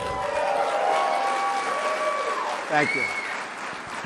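An audience gives a standing ovation at an economic club event in Chicago, loud sustained applause that swells and fades, with someone speaking briefly over it.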